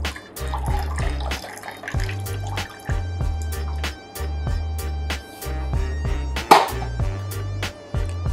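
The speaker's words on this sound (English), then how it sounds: "I'm gonna pour it in a martini coupe glass." A stirred cocktail is poured into a martini coupe glass, a soft liquid trickle and drips over steady rhythmic background music with a deep, repeating beat.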